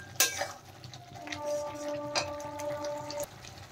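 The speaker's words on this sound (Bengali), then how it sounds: "এদিকে দেখেন মশলাটা কষানো হচ্ছে" Spiced masala for paneer Lahori being stirred and fried in a pan, with soft scraping of a spoon against metal and a sharp utensil clink near the start, under a steady faint sizzle.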